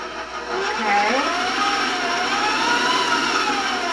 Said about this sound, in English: I'm just going to turn on my my mixer just to stir